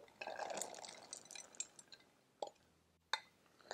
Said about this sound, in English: I'm going to stir in 4 cups of frozen blueberries.